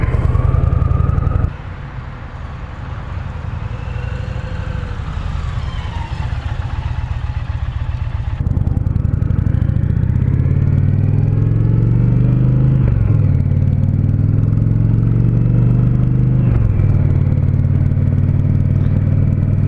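Loud 2020 Indian Challenger cruiser motorcycle engine rumbling steadily while riding, revs rising and falling through smooth gear changes, with wind noise.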